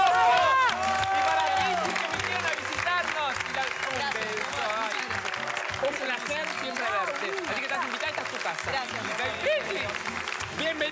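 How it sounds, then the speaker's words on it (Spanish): Studio audience applause on a comedy television show, a dense, steady wave of clapping and crowd noise that fills the whole stretch, with voices and bits of talk layered over it. "fuerte de aplauso para Delfina, que dejó."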